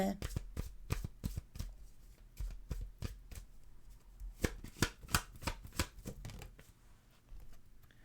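Tarot cards are shuffled in a series of quick, crisp riffles and slaps close up, bursts coming in irregular clusters with brief pauses between them, quiet overall with no speech.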